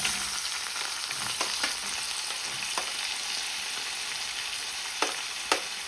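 Chopped onions fry in a pan for paneer butter masala, giving a loud, steady, close sizzle with a few sharp crackles and pops scattered throughout.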